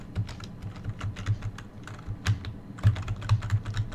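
Typing on a standard QWERTY computer keyboard during play of a DOS shareware game, with quick, irregular clusters of clacking keystrokes throughout, close and fairly loud, with no talk.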